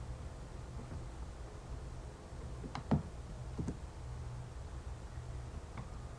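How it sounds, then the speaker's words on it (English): A few faint, isolated clicks as keys, including the N key, are pressed on a computer keyboard, close but quiet over a low steady background hiss. "click N on our keyboard"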